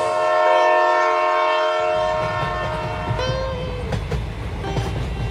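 A train sound effect plays under a narrated village ghost story. A sustained horn blast comes first, then the rumble of a moving train with rhythmic clacking and a few sharp squeals. It sounds close and loud, with no talk over it.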